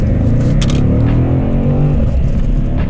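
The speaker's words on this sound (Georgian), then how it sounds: "8 ცილინდრს ძალიან კარგი ხმა აქვს" A BMW M850i's V8 engine accelerates with a loud, deep rumbling drone heard from inside the car, the pitch rising steadily over three seconds with a brief crackle partway through.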